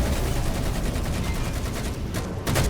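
Gunfire in the Halo video game: dense, continuous volleys of rapid shots, loud and close, with a short lull before a final burst.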